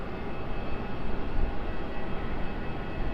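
An MD-11 trijet airliner rumbles at Raleigh Durham airport, a steady, broadband engine roar heard from a distance with a faint whining tone running through it, and no voices.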